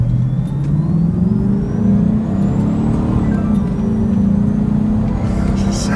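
A 1989 Mercedes-Benz 560SEL sedan, a heavy V8 saloon, accelerates hard from first gear with a steady loud engine drone that rises and holds throughout, heard from inside or close by with no talking.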